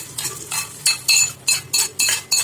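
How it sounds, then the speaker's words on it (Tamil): A spoon stirring tempering into rice and lentil rice, making a series of about seven rhythmic scraping and clinking strokes against the pot, close and distinct with no talking. "இப்போ இந்த வந்து தாளிச்சதை நம்ம வந்துட்டு இதுக்குள்ளே சேர்த்து விட்டுடலாம்."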